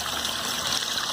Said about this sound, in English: Water features always seem to be pretty good with the kids.